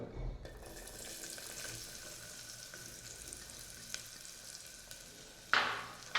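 About twenty shallots frying for a beef curry, giving a quiet, steady sizzle with a brief louder hiss near the end.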